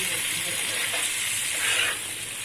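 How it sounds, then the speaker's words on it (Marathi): Small fish frying in hot oil on a flat tava griddle, giving a steady, close, dense sizzle that swells briefly near the end, with no talking. "थोडंसं फ्राय करून घ्यायचं"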